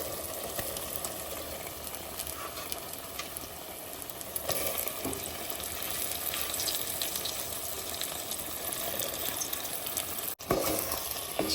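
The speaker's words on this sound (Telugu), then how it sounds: "ఇప్పుడు మనం ముందుగా కడిగి పెట్టుకున్న చికెన్ వేసుకుందాం." Chicken frying in a pan with browned ginger-garlic paste for a tamarind-leaf chicken curry: a constant close sizzle with occasional stirring, heard alone with no talk.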